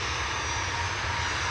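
Ryanair Boeing 737-800 jet engines running steadily as the airliner prepares to depart Manchester Airport for Milan, a continuous broadband roar with low rumble, moderately distant and unbroken.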